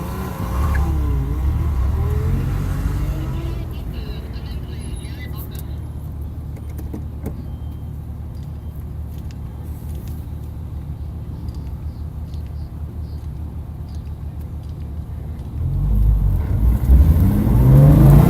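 A race car drives a practice session on a track, pushing hard and drifting through corners. Its engine gives a loud, continuous drone from inside, swelling and growling heavier as it accelerates toward the end.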